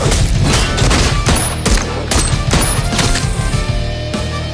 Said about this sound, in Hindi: कहां कहां पर गोलियां लग रही हैं।